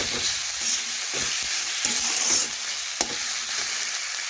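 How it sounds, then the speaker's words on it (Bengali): Turmeric and chilli powder spices being stirred and sautéed in a pan with a spatula, a steady close sizzle broken by scraping strokes at an uneven rhythm, with no talk. "মিশিয়ে মশলা একটু কষে নেব।"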